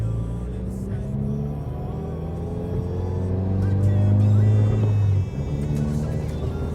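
Subaru WRX, 2020 model, driving at night on the street, a steady low engine rumble and road noise from inside the cabin, swelling briefly under acceleration, with someone talking over it.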